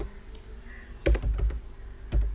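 A few quick keystrokes clatter on a computer keyboard, a short cluster of close clicks followed by one more tap, with a quiet room hum underneath.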